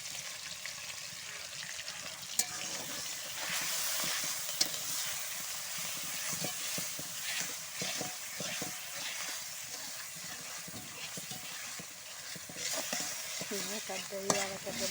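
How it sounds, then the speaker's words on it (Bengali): Spice paste fries in hot oil in a pan and is stirred continuously, a close, steady sizzle with a rapid, busy scraping of the utensil throughout and a few sharper knocks. "এখন মশলাটাকে ভালো করে কষিয়ে নিব নেড়ে চেড়ে"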